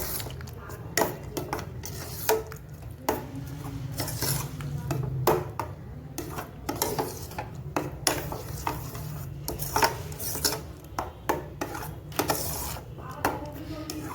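Apple halwa being stirred in a pan, with repeated scraping and clinking of a utensil against the metal in an irregular rhythm, close and moderately quiet with no talking.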